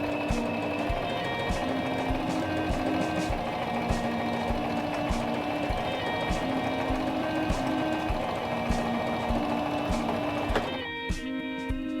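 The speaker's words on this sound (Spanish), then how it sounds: "Y cosamos toda la línea sin olvidar los remates." A Singer mechanical sewing machine stitching a straight seam, its rapid, even mechanical whir and ticking running steadily and close, then stopping abruptly near the end.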